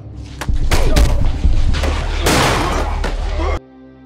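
Gunfire in a tense film scene: several sharp, loud shots crack in rapid succession over a dense, booming soundtrack, then cut off abruptly.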